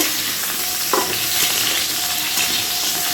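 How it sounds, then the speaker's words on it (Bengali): Chunks of potato and papaya fry in hot oil in a pan, giving a loud continuous sizzle close by with faint stirring scrapes and no voices. "আলুটাকে আর পেঁপেটাকে ভেজে নিচ্ছি তেলের মধ্যে"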